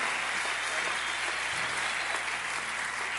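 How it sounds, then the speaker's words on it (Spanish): An audience at a Christian radio program claps steadily, a thick wash of applause that holds evenly throughout without pause. "Si ese aplauso es para nosotros"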